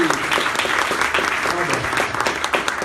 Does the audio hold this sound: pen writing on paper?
no